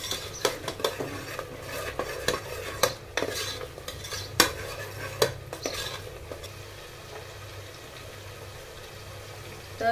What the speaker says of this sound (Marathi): मसाला टाकल्यानंतर मस्तपैकी असा हलवून घ्यायचा आपल्याला.